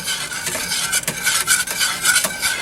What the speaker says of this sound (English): I'm going to go with the whisk. We'll go ahead and start stirring that up.